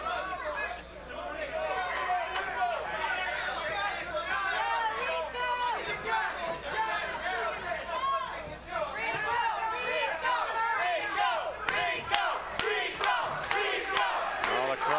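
A boxing crowd roars and shouts throughout a bout between Rico Tatangelo and Ernie Kitterman, a loud continuous mass of cheering and chatter with a few sharp bangs near the end.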